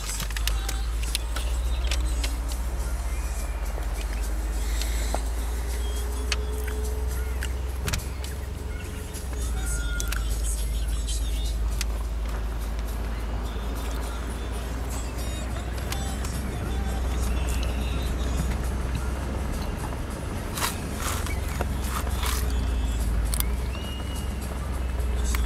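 Mercedes-AMG S63 panorama being slowly maneuvered and repositioned, a steady low engine rumble running throughout with traffic-like noise around it and people talking nearby.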